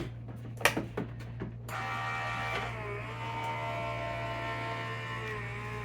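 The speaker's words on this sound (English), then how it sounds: "I'm gonna run it through the machine" A die-cutting machine feeding a card through starts after a few sharp clicks and taps, then gives a steady low motor hum and whir that runs on evenly and close by, with a constant electrical hum underneath.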